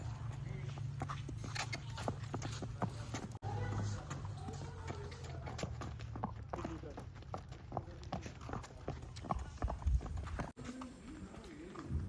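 A pregnant 63-inch mare being led on a horse farm walks with steady, close clip-clop hoofbeats while someone talks over them.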